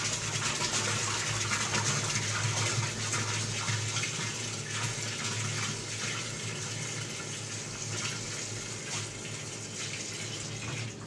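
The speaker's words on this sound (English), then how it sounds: "So I'll just pour in more water until the mark." Water pours steadily into a medical equipment sterilizer until it reaches the fill mark, a continuous close, loud gushing and trickling that stays even for the whole stretch with no talk.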